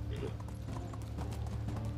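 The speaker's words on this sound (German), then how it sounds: "Renn einfach, Pferdchen, renn." A horse's hooves clip-clop in a quick gallop in the video game Medieval Dynasty, a rapid repeating beat with faint snorts, fairly quiet against the game's background sound.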